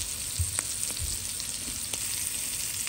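Scallops searing in a hot pan for an appetizer, a steady close sizzle and crackle of frying with a few soft taps, no talk.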